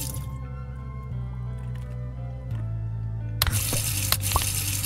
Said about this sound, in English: Oh, I gotta put water in here.